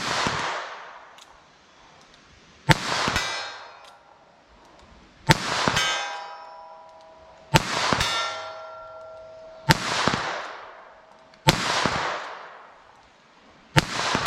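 .22 LR Remington Thunderbolt rounds fired from a snub-nose revolver at a 75-yard target: six sharp, loud shots spaced a couple of seconds apart, each cracking sharply and trailing off in a ringing outdoor echo.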